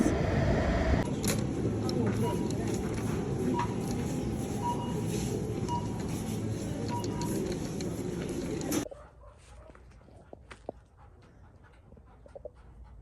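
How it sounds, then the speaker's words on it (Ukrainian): A car engine idles while warming up, a steady, loud rumble that fills the first nine seconds and then cuts out abruptly, leaving near-quiet with a few faint clicks. "Зараз машина прогріється, бо вона"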